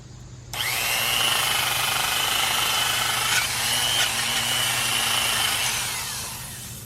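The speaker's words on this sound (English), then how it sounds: "maybe a drill with a wire wheel on the end would be better" A drill fitted with a wire wheel scrubs acid-soaked mortar on reclaimed brick. It runs as one loud, continuous abrasive whir for several seconds, with a slight change in pitch partway through before it winds down.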